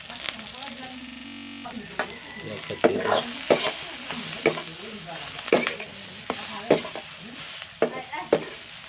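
Meat fries in a pan with cumin powder and meat masala, stirred with a sizzling hiss and sharp, irregular spatula clacks and scrapes up close. A voice speaks faintly now and then.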